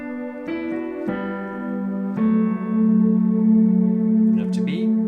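Right-hand piano intro of a song, a few sustained single notes struck one after another and left ringing, close and clear.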